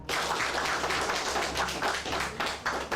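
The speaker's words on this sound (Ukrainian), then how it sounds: "У залі ухвалу суду зустрічають оплесками." Spectators in a courtroom applaud a court ruling, a dense, continuous burst of clapping from many hands that fills the room steadily throughout.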